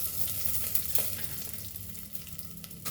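Onions and garlic frying in a pan for mutton paya soup, giving a steady close-up sizzle with faint stirring scrapes and no talking.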